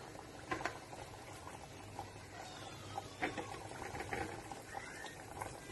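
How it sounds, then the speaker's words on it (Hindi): Mathri fry in oil in a kadhai over a low-to-medium flame, producing a gentle, continuous bubbling hiss scattered with soft crackles, steady and fairly quiet. "अब मेरा ऑयल देखिए कढ़ाई में गर्म हो गया है, अब मैं मट्ठी इसमें डालने जा रही हूँ"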